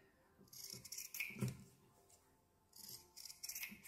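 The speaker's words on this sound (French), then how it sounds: "on va couper un peu de matière autour" Scissors trim the fabric corners of a handmade soap pouch with quiet snips and rustles in two short bursts, close and faint, with no talking.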